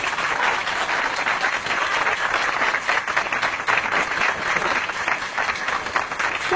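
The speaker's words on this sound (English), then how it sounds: "save the applause till the end." Audience applause in a hall during a talk on Muslim representation and political correctness, a dense, steady wash of many hands clapping at close to moderate distance for the whole stretch, with no voice on top.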